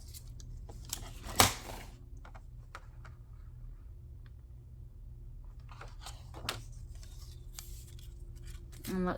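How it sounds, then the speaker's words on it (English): Scissors cut a strip off a sheet of paper for a handmade tagbook: one sharp, close snip stands out early, followed by faint rustling and light handling sounds in a quiet room. "Let's cut this strip off."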